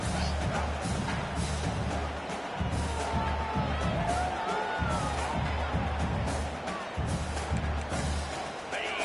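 A large LSU football stadium crowd roars and yells continuously during a game against Jax State, a dense sustained wall of shouting and cheering with scattered whoops rising above it.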